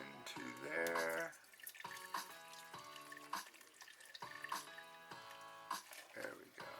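Water pours steadily into a cup of Menraku seafood tonkotsu Japanese instant ramen, a continuous splashing trickle with voices and background music alongside.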